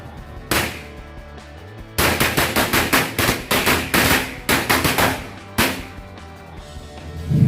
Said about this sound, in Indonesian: Selanjutnya kita cobain mercon korek Piccolo